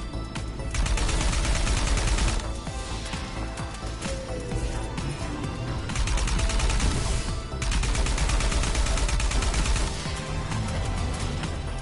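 Dense, sustained enemy gunfire from the video game Arcrunner, with rapid automatic bursts and shots layered over one another almost continuously, loud and close, with only brief dips in intensity.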